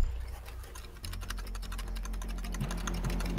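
Dense, steady clatter of fast typing on a computer keyboard runs throughout at close range over a constant low background hum.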